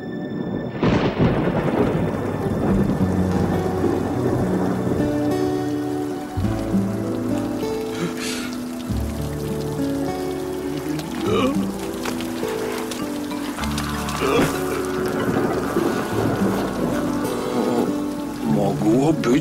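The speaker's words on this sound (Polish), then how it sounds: "Bywają większe deszcze." Rain and thunder in a game world, a loud rumbling thunder roll at the start over steady rain, with shifting tonal music-like layers and further rumbles throughout.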